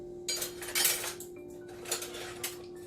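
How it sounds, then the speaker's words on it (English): Stainless steel spoons and other utensils clink and rattle against each other as one is picked out, in a few light metallic knocks and jingles spread over a few seconds, with no talking. "Let me grab one of my stainless steel ones."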